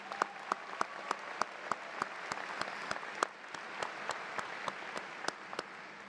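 Applause at a University of San Diego awards ceremony, following speeches: a fairly faint, even crowd patter punctuated by sharp, regularly spaced claps standing out near the front, continuing steadily throughout.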